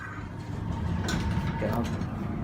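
A 1970 Gallaher & Speck hydraulic elevator's motor and mechanism give a low mechanical hum and rumble with faint clicks and whirs, running steadily close by, with some muffled background noise.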